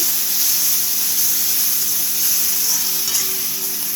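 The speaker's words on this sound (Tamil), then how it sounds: "இஞ்சி பூண்டு பேஸ்ட் சேர்த்து வெங்காயமும் இஞ்சி பூண்டு பேஸ்ட்டும் நல்லா வதங்கிக்கணும்" Onion and ginger garlic paste sautéing in a pan for a prawn dish, a loud, steady hissing sizzle close up with faint stirring and a low hum beneath; no one speaks.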